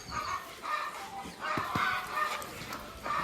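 A hen calling in short, repeated clucking bursts after laying an egg, at a moderate distance on a goat farm, with low background noise throughout.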